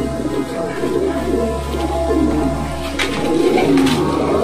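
Pairs of domestic fancy pigeons coo close by in a steady, low, throaty rumble that repeats across several seconds, with faint human voices in the background.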